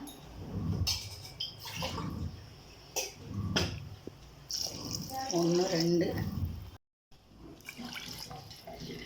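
Water poured from a tumbler onto soaked basmati rice in a home kitchen, a splashing, running pour heard in several bursts with a short gap near the end, close and fairly loud, with a brief spoken count over it.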